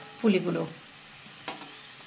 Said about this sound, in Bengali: পুলিগুলো একটা করে ভাজা হচ্ছে